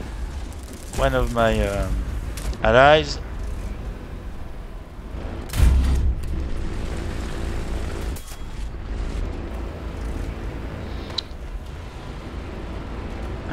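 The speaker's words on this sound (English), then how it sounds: "So here there is a very bad bombing by" Bombs exploding in a tank battle in War Thunder on the Japan map, heard as a deep boom and a low rumble in the mix, under a voice talking over the game.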